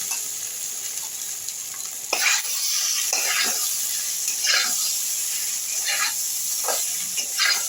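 Potato pieces are stirred and sautéed with coriander powder and chili powder in hot oil for an aloo dum, giving a steady soft sizzle broken by repeated scraping strokes of a spatula against the pan.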